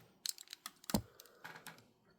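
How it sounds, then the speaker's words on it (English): The joints of a Hot Toys Iron Patriot figure click weakly as they are moved, a close, quiet run of small irregular ratcheting ticks with one slightly louder snap. "there's a couple click ratchets, but they're very weak"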